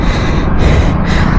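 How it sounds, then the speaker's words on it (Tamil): Heavy, rushing breaths from a rider out of breath while cycling uphill on a road in Chennai, loud and close, a continuous huff with two quick pulls of air. "இதுக்கே இப்படி மூச்சு வாங்குது"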